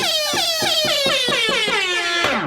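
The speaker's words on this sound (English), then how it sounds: "I'm using a horn sample here, the old classic air horn." A classic air horn sample fired from a Pioneer DDJ-REV5 DJ controller, blaring as a loud repeated burst of about seven quick honks that ends in a final downward blast, heard on its own.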